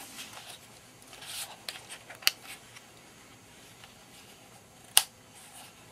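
The battery door of a Canon EOS Rebel T3i is handled and snapped shut, heard as soft rustling and a small click, then one crisp, close snap over quiet room hiss.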